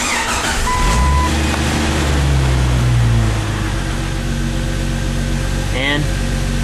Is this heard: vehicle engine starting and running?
yes